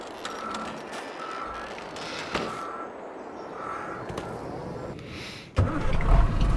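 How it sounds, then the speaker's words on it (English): Repeated reversing beeps from a truck backing a trailer in Farming Simulator 22 on an old Polish farm, a steady evenly spaced series of tones over engine rumble, ending in a louder burst of engine noise. "I'm going to have to back the trailer into here"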